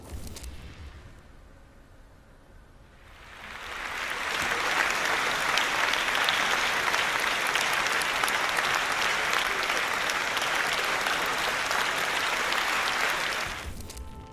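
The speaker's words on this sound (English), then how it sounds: "The Slovenians' performance was greeted with polite but thunderous applause" Thunderous applause from a concert audience greeting a Slovenian band's performance, swelling from quiet to a dense, sustained roar of clapping that holds steady for about ten seconds before cutting off.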